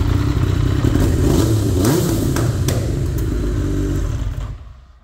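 A Triumph Daytona T595 triple with a Quill exhaust revs, a loud, close, rough engine note with clattery blips that fades out at the end.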